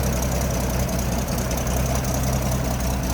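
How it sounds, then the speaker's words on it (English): 1974 Toyota Land Cruiser FJ40 engine idling steadily, a close, even low rumble with faint periodic ticking, no talking over it. "Nice running engine."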